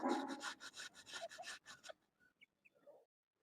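Pumpkin grated by hand in a rural kitchen, a quick run of rhythmic rasping strokes close up for about two seconds, then a few faint scrapes and clicks before quiet.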